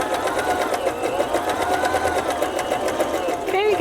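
A sewing machine stitches twill tape onto cut-and-sew foam in a steady, fast, continuous mechanical whir with rhythmic needle chatter, loud and close throughout.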